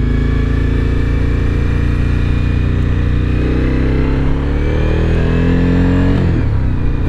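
A 2017 Suzuki V-Strom 1000 XT with an Akrapovic exhaust revs loud and close, a steady mid-pitched engine roar that climbs through several gear-like rises and eases near the end, with no talk over it.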